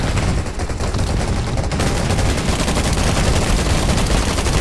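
Sustained rapid gunfire in Garena Undawn as a group shoots at a boss at its final stronghold, a dense, loud, continuous rattle of shots filling the whole stretch with no pauses.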